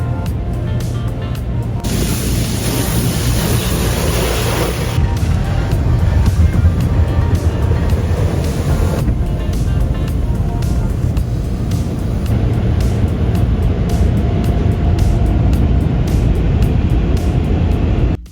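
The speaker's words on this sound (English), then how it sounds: "My mom is taking me through the fancy car wash." An automatic car wash runs around a car, with loud hissing bursts of water spray and a low droning rumble from the machinery, the spray coming and going in waves.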